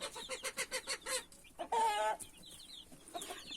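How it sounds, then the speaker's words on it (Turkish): Farmyard chickens and chicks clucking close by: a quick run of rhythmic clucks, then a louder drawn-out squawk, followed by softer scattered peeps and clucks. "Hay maşallah benim civcivlerime."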